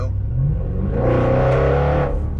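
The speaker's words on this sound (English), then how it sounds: "you've got a full Miltech exhaust system," Audi RS6 tuned to about 730 horsepower with a full Milltek exhaust system, revved hard in one sustained burst with a deep, rumbling roar that rises and holds before dropping away, loud and close with no talking.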